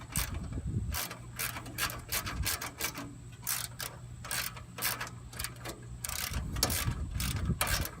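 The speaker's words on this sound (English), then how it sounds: "It's a 10mm socket, and I usually tighten up the middle one." Rapid ratchet clicks from a 10mm socket tightening inner fender bolts on a 2007-2017 Jeep, coming in quick bursts of crisp, close ticking over a steady low hum.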